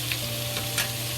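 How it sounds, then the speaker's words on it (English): Sausage fries slowly in oil with a low, even sizzle and faint crackles, close up and steady over a very short stretch, with no one talking. "slowly fry until the most fat in the sausage come out to the oil."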